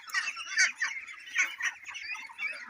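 White Pekin ducks on a farm quack and honk in a close chorus, several birds calling in overlapping bursts.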